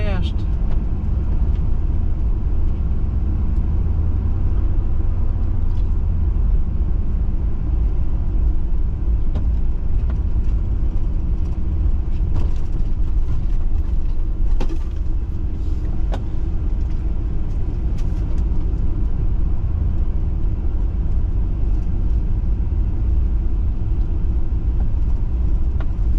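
Cars on a hot city street, a continuous low road rumble and engine drone from passing traffic with occasional louder swells, heard from close by under ambient noise.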